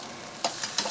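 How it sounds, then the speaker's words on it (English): Diced tomatoes being stirred into a pot of chicken chili: a low simmering bed broken by two or three quick, close scraping stirs in about a second, no voices. "Stirring it in."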